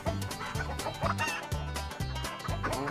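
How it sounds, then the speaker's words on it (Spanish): A rooster in a small cage gives a rapid run of throaty, rhythmic clucks, close and clear, repeating about twice a second without pause. "Vamos a agarrar el gallito."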